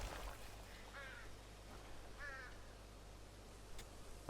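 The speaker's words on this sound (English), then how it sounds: "Okay, let's see if we got a crow. Yeah, we'll get this crow or raven." Crow calls in the video game Crimson Desert: two short harsh caws spaced about a second apart, moderately faint over a steady low background hum, with no talking.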